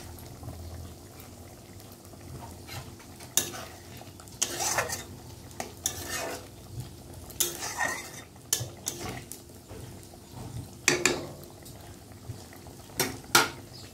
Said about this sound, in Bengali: দেখো পোস্তটা ফুটছে।